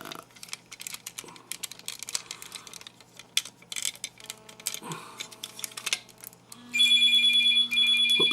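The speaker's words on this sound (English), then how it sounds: "there goes my phone" A mobile phone starts ringing with a steady electronic ringtone near the end, following a stretch of quiet clicking and tapping noises.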